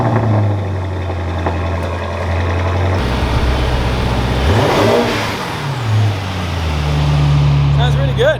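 Revving car engine fitted with an aftermarket titanium exhaust with purple tips, idling then blipping the throttle in sharp rising and falling sweeps, loud and close, with people talking over the engine.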